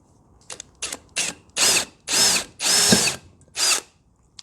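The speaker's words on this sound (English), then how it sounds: "Let's get ourselves a small drill bit. Make the first incision." A power drill with a worn, burnt-out small bit drills into metal of a Tesla Model 3 drive unit in seven bursts, short at first then longer, each a high grinding whine with brief silences between.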